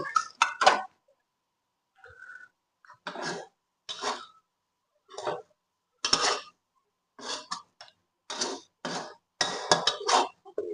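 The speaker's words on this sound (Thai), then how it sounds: "แล้วลุงก็จะตักใส่ถ้วยแล้วครับ" Fried fermented fish and shrimp with egg, herbs and a flat-bottomed spoon, scooped from a hot pan into a bowl: repeated short scraping clinks and scoops in irregular bursts, close and fairly loud, with brief pauses between.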